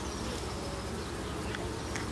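Honeybees at an open mini hive with virgin queens produce a dense, continuous buzzing close by. The swarm hum is steady throughout, with no voices.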